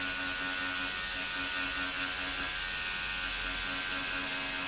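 A tattoo machine hums in a steady, continuous electric buzz while cross hatching a realistic rose, close and even throughout with no talking.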